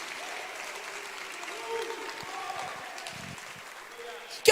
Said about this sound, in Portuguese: Se é para Jesus, você pode aplaudir